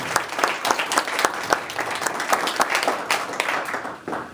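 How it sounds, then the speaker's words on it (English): Audience at a Benson, Arizona candidate forum claps in a sustained round of applause, dense overlapping hand claps from a moderately sized room crowd, steady for about four seconds before tapering slightly at the end. "Could we have just a little round of applause for the people who helped put this together?"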